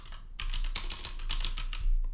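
Quick, even keystrokes on a computer keyboard while creating related records in a FileMaker database, a steady close-up clatter with no voice over it.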